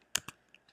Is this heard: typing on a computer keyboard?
yes